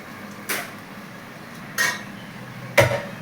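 A metal cooking pot clattering during home cooking, three separate sharp clanks spaced about a second apart, close and loud over a low background hum.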